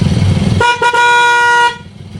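A steady electronic horn on a 2005 Honda XRM 110 motorcycle with a weak battery honks in one sustained blast of about a second, with a brief dip near the start, after a low engine idle.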